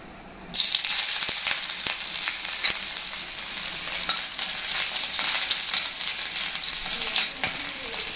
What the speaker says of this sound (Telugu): అల్లం ఇలా కొంచెం వేగిన తర్వాత ఇది పల్లీలు వేసేసుకోవాలి